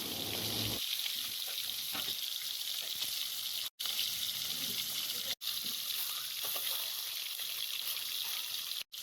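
Boiled eggs for egg curry fry in hot oil with a loud, continuous sizzle and spatter that holds steady, broken by a few brief sharp dropouts.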